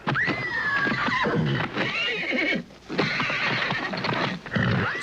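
Wild horse neighing loudly and repeatedly in long shrill whinnies with snorts between them, close and forceful, with a few hoof sounds underneath.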